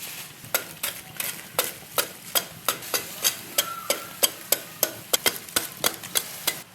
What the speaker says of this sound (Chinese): 辣子羊油熬一熬出锅